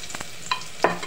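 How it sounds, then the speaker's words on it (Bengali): Chopped onions sizzle in oil left over from frying fish while a spatula stirs them, giving a few brief scraping strokes over a soft, steady fry. "পেঁয়াজটাকে ভালোভাবে একটু নেড়ে চেড়ে ভেজে নেব।"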